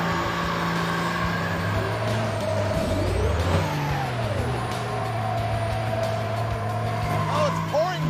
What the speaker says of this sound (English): Is this what the ramp truck sounds like?